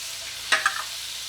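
About four cloves of garlic go into a pan of butter for shrimp scampi: a couple of quick stirring clatters with a brief sizzle, over a faint steady background hiss.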